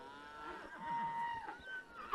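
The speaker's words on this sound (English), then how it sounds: "we got cows wanting to go everywhere" Cattle being driven up a hill trail low and bellow in drawn-out moos, one fairly close and another overlapping, over faint outdoor background.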